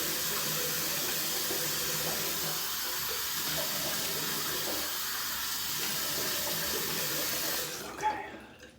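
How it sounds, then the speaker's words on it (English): Tap water running steadily over a razor and blade being rinsed in a sink, a close, even hiss and splash that stops abruptly near the end with a small clunk. "Rinse out the razor and the blade."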